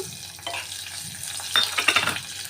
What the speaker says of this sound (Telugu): ఇప్పుడు మనం ఉల్లిపాయలు కూడా వేసిద్దామండి